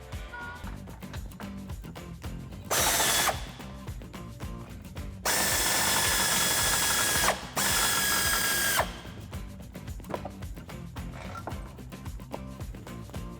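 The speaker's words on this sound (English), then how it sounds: "Using our 18mm socket, we're going to remove the bolt." A tool with an 18mm socket removes a shock bolt on a Jeep Wrangler JL 4-door: three loud mechanical bursts of whirring and ratcheting, one longer than the others, over constant workshop background noise.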